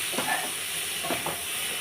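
Okra curry frying with spices in a pan, a steady close sizzle and hiss with a few soft stirring scrapes, no voices.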